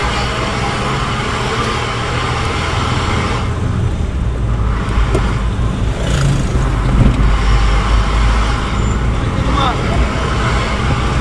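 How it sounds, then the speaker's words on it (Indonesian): Heavy trucks hauling sand and stone from the mountains along a road in Jampang, a steady loud roar of engines and traffic passing close, with voices talking over it. "Nah ini, truk-truk bawa pasir tuh."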